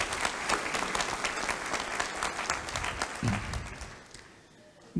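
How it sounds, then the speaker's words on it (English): A commencement crowd honoring university graduates breaks into sustained applause, dense and steady clapping from many hands in a large hall that tapers off near the end, with a brief voice barely audible underneath. "I think you and all of us owe them a round of applause and"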